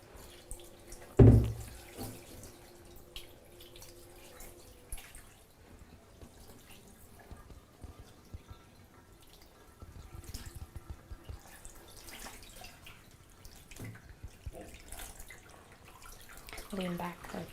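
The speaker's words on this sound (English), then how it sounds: "So here we have our cold pour, our cold pitcher." Cold water from a pitcher splashes and trickles over feet in a natural-remedies hydrotherapy treatment. The pour is soft and uneven, with one louder splash near the start, drips throughout, and occasional faint voices.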